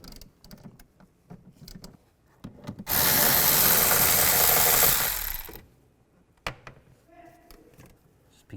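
A T30 socket on a power driver removes screws from a 2003-2010 BMW X3 engine bay with a loud, close burst of whirring lasting about three seconds, bracketed by clinks and handling of tools and parts.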